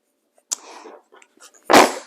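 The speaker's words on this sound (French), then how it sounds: "qui éternue à côté du micro" A young child sneezes once, sharply and loudly, right beside the microphone, after a few soft breathy sounds and quiet murmurs in a still room.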